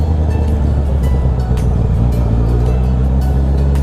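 Close, loud idle of a tuned motorcycle running an Akrapovic muffler, a steady low rumble with slight throttle blips, heard alone over a few seconds.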